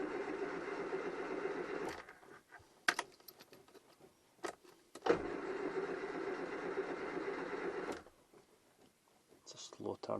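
A Classic Mini engine cranks slowly on a weak battery in two sluggish bursts of rhythmic turnover separated by a pause, with a voice talking close by in between.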